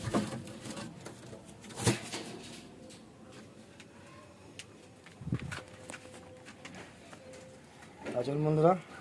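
A young pigeon coos softly while held in the hand, with low murmuring calls scattered through the clip and a clearer burst of cooing near the end, among faint handling noises.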